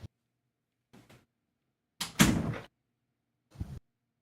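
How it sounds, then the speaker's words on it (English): A single loud door slam, a sharp bang with a short noisy tail, bracketed by a few faint thumps and knocks in an otherwise quiet room. "Well, that was a loud door slam."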